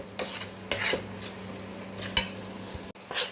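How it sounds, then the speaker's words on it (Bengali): Onion paste frying in a pan for a fish dish, with a soft steady sizzle, several scraping stirs and light clinks of utensil against the pan, fairly close and moderately quiet. "পেঁয়াজ বাটা এটাকে মোটামুটি কিছুক্ষণ ভেজে নিতে হয়।"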